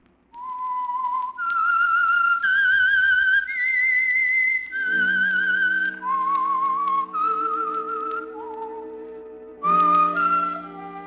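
A lone whistler carries the melodic theme signal of the radio mystery program The Whistler, a clear, sustained tune of several long held notes rising and falling, loud and close with no voices.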